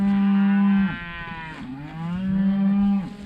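Cows low in a damaged crop field, two long loud moos close by, each a deep drawn-out call with a short gap between them.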